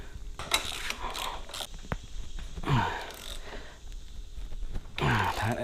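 Tightening a lock nut on a Honda Grom's 12 o'clock handlebar: a series of close metallic ratcheting clicks and short mechanical bursts in irregular spurts, with quiet gaps between strokes.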